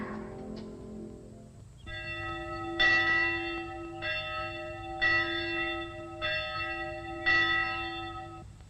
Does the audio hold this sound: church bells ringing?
yes